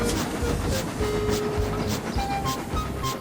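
A heavy freight train labours over a hill, its cars bumping and banging as they go, a continuous rumbling clatter heard beneath a narrating voice.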